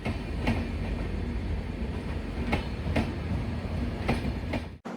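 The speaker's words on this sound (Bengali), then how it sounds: "প্রায় নির্দিষ্ট সময়ে ট্রেন চলে এলো।" Uttarbanga Express train arriving at Bolpur station: a loud, steady rolling rumble with periodic wheel clacks, close by, cutting off abruptly at the end.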